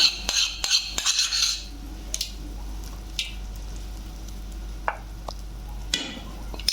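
A metal spoon stirs jackfruit seed curry in a pan. It starts with a burst of quick close clinks and scrapes, then quieter intermittent taps and stirs follow over a low background hum.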